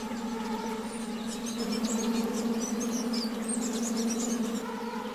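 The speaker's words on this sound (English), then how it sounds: "the air is choked with billions of flies" Billions of lake flies (midges) swarm in choking clouds over a lake village, making a steady, droning hum that swells slightly midway, with faint high chirps and bird calls scattered above the buzz.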